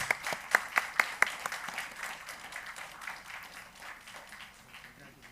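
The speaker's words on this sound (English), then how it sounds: "A big round of applause, please." Faint audience applause at an award ceremony, with a few sharp individual claps near the start over a soft, fading spread of clapping.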